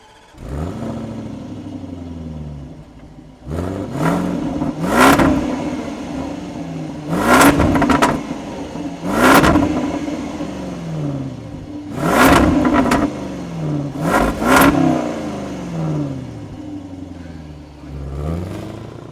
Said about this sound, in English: the most important thing is that it makes supercharger noises